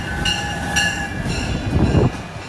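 An arriving train rolls in on the rails, a steady rumble joined by a high sustained wheel squeal and rising grinding noise near the end, with no talk.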